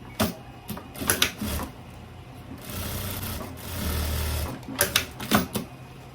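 Sewing machine stitching a turned hem on tailoring-fabric shorts, its motor whirring in short bursts between pauses, then in two longer steady runs, all close by.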